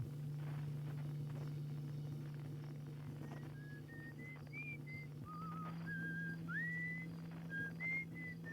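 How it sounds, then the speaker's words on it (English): Melodic whistling in the exploration game Outer Wilds plays as a series of short rising and held notes over a steady low hum, fairly faint and steady, with no speech. "So I was hearing whistling up there?"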